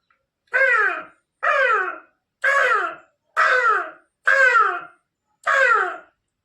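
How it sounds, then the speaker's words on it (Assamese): A crow caws six times in a steady series of harsh, loud calls, each about half a second long with short gaps between, close and clear with no other sounds. "crow"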